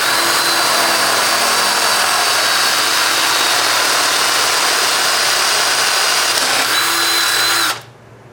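A power drill bores holes in a muffler flange clamped in a vise, whining loudly and continuously at close range for nearly eight seconds before cutting off abruptly.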